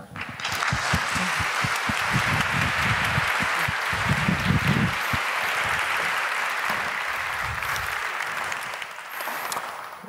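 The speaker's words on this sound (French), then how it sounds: "Alors, on peut l'applaudir." Sustained audience applause at a lecture hall event, steady and full for ten seconds with slight swells, fading a little at the end.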